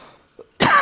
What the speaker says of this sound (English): Sorry, I'm coughing in the mic so much.